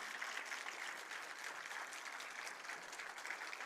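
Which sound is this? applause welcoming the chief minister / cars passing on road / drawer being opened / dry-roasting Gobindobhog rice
applause welcoming the chief minister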